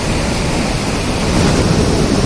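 Rushing water below a suspension bridge in Sweden, a loud, continuous broadband roar of torrent and spray with no pauses and no voices.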